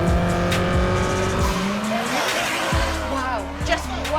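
Classic racing cars roar past at the Goodwood Revival, engines loud and close with shifting pitch, tire squeal and skidding, as voices talk over the din.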